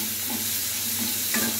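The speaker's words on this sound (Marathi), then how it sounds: "थोडीशी हळद, थोडासा मीठ आणि त्याला जरा परतवायचं आहे" Ivy gourd sautéing in a pan with turmeric and salt, a dense steady sizzle with a low hum underneath and a soft scrape of stirring near the end, close and even.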